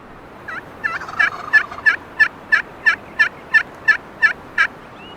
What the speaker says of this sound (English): I love the sound of that slate call.